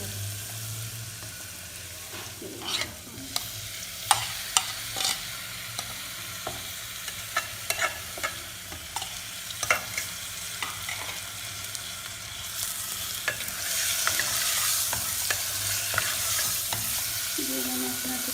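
Chicken pieces sizzle in a pan with garlic ginger paste, with frequent sharp scrapes and clacks of a spoon stirring over a soft steady frying hiss that grows louder near the end.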